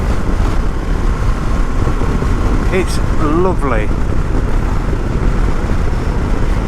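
A 2022 Ducati Desert X motorcycle engine drones steadily while riding, with a continuous low rumble and wind noise, as a rider briefly speaks over it midway.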